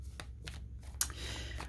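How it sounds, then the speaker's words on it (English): Tarot cards shuffled by hand close up, a few quick riffling bursts and soft slaps separated by brief pauses over a low background hum. "We are going to take a moment, shuffle the cards"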